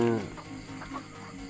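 Chickens in a pen on a farm give soft, scattered clucks that are faint and close, under a steady low background.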